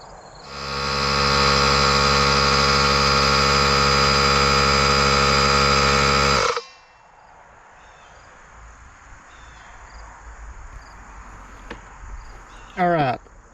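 A McGraw 3 gallon Harbor Freight air compressor runs loud and close with a steady droning motor hum for about six seconds, then shuts off, leaving quiet room noise and a brief rising whine near the end.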